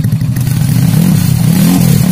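A racing-built C-series motorcycle engine with a Juve piston, BRT T1 camshaft and double-ball bearings revs hard close by, a loud, steady, throbbing exhaust roar with slight rises in pitch as the throttle is held open.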